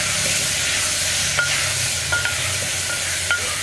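Potato masala tossed with turmeric in a pan, a steady close sizzle with a few sharp scrapes and clinks of the spoon against the metal, no voices.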